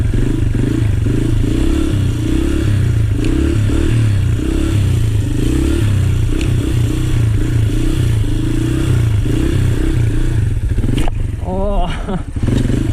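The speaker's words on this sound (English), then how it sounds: "let's see if we can wheelie around this big willow bush here" A motorcycle held in a wheelie while circling a large willow bush, its engine droning loud and steady with a pulsing throttle throughout, then a clattering scrape and rising revs near the end.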